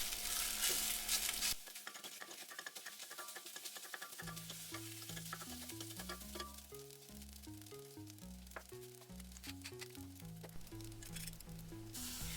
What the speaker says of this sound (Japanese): ご飯をほぐしながら炒めていきます。